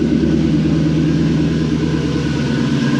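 A car engine idles steadily at about 1100 RPM, a close, even, low mechanical hum that holds constant throughout with no voices.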